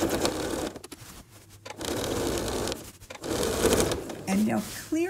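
A sewing machine stitches across a quilt toward its edge in bursts of rapid needle chatter, broken by short pauses, with a voice talking over it.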